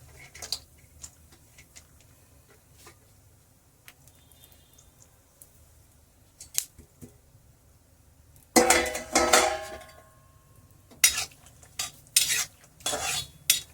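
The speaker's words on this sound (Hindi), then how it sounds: "ये सब चीजें जब फूलती है ना पछटना शुरू कर देती है, टर टर टर आवाजें शुरू हो जाती है इनकी" Edible gum and cashews roasting in a pan, starting with faint sparse ticks and turning into dense bursts of popping and crackling that grow louder toward the end.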